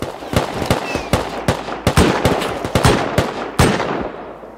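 Rapid gunshots crack out in a shooter video game, a fast irregular string of loud, sharp reports spread across a few seconds, close and dominant with no talk over them.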